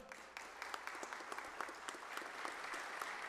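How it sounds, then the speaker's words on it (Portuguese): An audience at a formal ceremony honouring people with rare diseases applauds. The clapping is faint and distant, with a steady patter of many hands that continues throughout. "Podemos aplaudi-la?"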